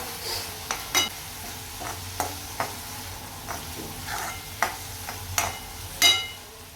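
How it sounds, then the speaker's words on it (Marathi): Onion and tomato being stir-fried in a pan for paneer bhurji, giving a low sizzle with a series of sharp spoon scrapes and taps against the pan at irregular intervals, close and clear with no talking. "हे बघा कांदा टमॅटो चांगले परत परतून झाले"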